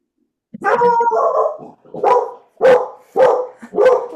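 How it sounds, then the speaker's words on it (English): Dogs bark nearby in a burst of loud, rough barks, starting with a drawn-out one followed by four quick repeated barks, with no talking over them. "Wow, dogs are barking."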